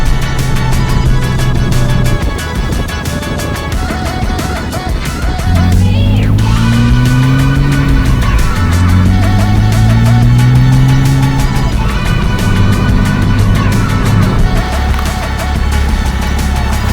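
Porsche Cayman S driven on the road, engine revs climbing and dropping through gear changes with rising tonal sweeps, close and fairly loud over road and wind noise inside the cabin.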